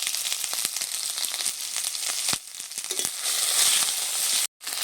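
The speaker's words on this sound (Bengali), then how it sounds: "মশলাটাকে নেড়ে চেড়ে কষে নিয়েছি।" Onion paste, ginger-garlic paste, green chillies and whole cumin sizzling in hot oil in a pan, a loud steady frying hiss broken by a few stirring knocks, ending in a brief cut to silence.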